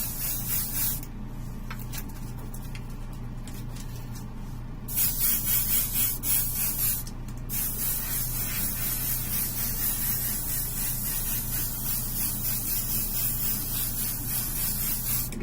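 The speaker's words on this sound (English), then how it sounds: "Again, this is just the Badger Stynylrez Res. Spraying at 20 psi." An airbrush sprays Badger Stynylrez primer at 20 psi onto a Batman figure prototype, a steady close hiss in short bursts then continuously, over a low hum.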